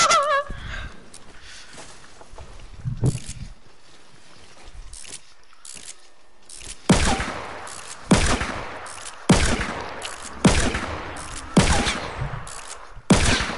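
Revolver gunfire in a shooting video game, sharp single cracks at first, then a steady run of loud shots about one per second, each ringing briefly.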